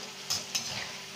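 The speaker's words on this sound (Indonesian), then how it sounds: "Ini digoreng sampai crispy teman-teman, rasanya nggak kalah seperti pisang goreng." Sweet potato fries in hot oil with a soft, steady sizzle and two short stirring scrapes close by.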